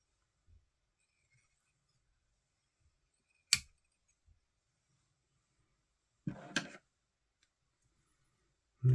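Fly tying scissors snip thread at the vise while dressing a Mandarin Daiwl Bach fly: a sharp close click stands alone in near silence, then a short rustling flurry of small snips and handling follows.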